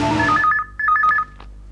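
Telephone ringing in a Hindi crime drama serial, two quick bursts of a trilling electronic ring separated by a brief gap, close and clear.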